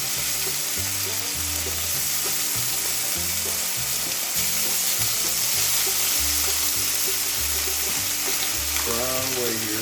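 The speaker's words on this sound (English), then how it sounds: "I got it popping and cracking everywhere, folks. I got it really good and hot." Steak sizzling and popping in a very hot pan as pepper steak cooks, a steady loud frying hiss with crackles throughout and a low rhythmic hum underneath.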